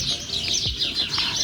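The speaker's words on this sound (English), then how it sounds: "lots of birds in that tree" Birds chirp and tweet repeatedly in a tree at a city entrance, bright calls layered over a steady outdoor background with no talking.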